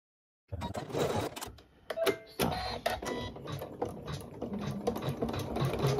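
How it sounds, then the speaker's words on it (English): An embroidery machine stitches an applique design, its rapid needle chatter running steadily and close up after a brief silence, with small clicks and shifts in rhythm as it works. "We're getting towards the embroidery part now."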